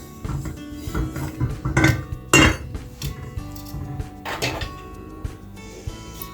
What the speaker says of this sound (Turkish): Hemen şerbetimi de karıştırıyorum